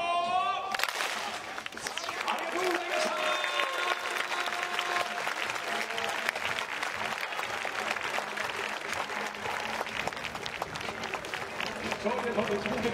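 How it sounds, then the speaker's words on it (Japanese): A stadium crowd at a baseball game claps together, a dense roar of applause that starts abruptly and holds steady, with cheering and a voice audible in the mix. "勝利の関東一本締め、お手を拝借よっ"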